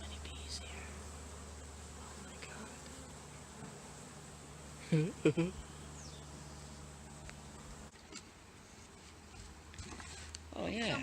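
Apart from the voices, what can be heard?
swarm of bees buzzing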